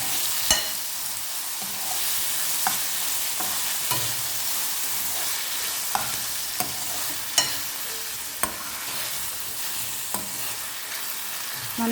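Okra curry with tomato pieces sizzling in a pan while being stirred, a steady frying hiss broken by repeated sharp scrapes and clicks of a spoon against the pan, close and without talk.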